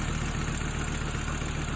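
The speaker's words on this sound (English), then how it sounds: "Yeah, there's the engine." Volkswagen Eurovan engine idling with a steady, even low rumble and mechanical hum, close and constant with no voices.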